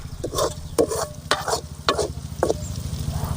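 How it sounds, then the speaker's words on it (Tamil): Avaram flowers sautéing in a pan with onion and tomato, a steady sizzle broken by repeated scraping stirs of a spoon at an uneven rhythm, close and fairly loud. "நல்லா பூ போட்டு நல்லா வதக்கணும்"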